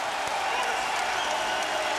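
Georgetown fans in a basketball arena during a 1996 Connecticut versus Georgetown college game, a steady, dense roar of cheering and clapping that holds at an even level for the full two seconds with no talk.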